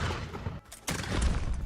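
A cannon in RimWorld fires a 4-pound shell at steel ore, landing as a sharp broadband blast near 0.9 seconds amid dense, loud battle noise, with a brief lull just before the shot.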